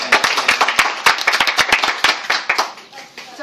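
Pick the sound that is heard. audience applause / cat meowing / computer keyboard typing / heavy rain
audience applause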